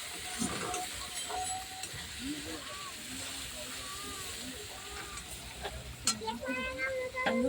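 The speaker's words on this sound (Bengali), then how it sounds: "রসুন বাটা, ভালো করে লাল করে ভেজে নেব।" Garlic paste frying in a pan on a lowered gas flame gives a continuous crackling sizzle with occasional scrapes of stirring, while a voice speaks over it in the foreground.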